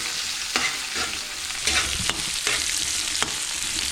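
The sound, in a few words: stirring sautéed squid adobo in a pan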